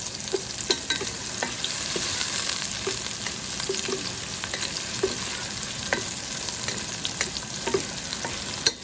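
Onions frying slowly in a pan for chicken afritada, stirred now and then: a continuous close sizzle dotted with light utensil taps and scrapes throughout.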